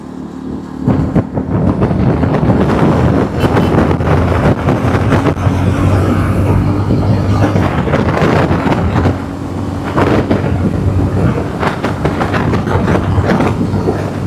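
A 350cc roadster motorcycle cruises steadily at 80 km/h, a continuous loud engine drone mixed with heavy wind rush that holds constant throughout with only slight dips in level.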